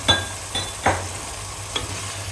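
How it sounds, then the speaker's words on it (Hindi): Chicken being stirred and fried in a pan for achar gosht, with four distinct scraping stir strokes over a low, steady background sizzle, close and moderately loud, no voices. "चिकन डाल के मैं इसकी भुनाई करूँगी।"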